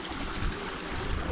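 A moorland stream rushes over stones beside a hill trail near Holme Moss and Black Hill, a steady broadband burble with no talk.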